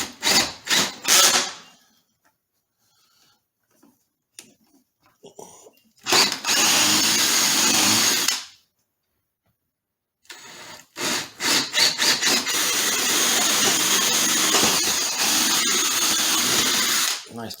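A power drill with a sharp bit bores into a wooden speaker cabinet while a dolly is attached to its underside, in two loud sustained whining bursts separated by quiet gaps, with brief clicks and handling noises before the first run.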